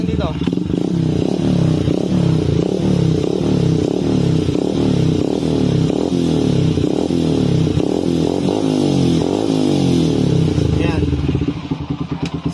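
A motorcycle with a faulty rectifier regulator revs hard and close, a loud continuous engine roar with pulsing throttle surges and rattling clatter throughout, fading slightly at the end.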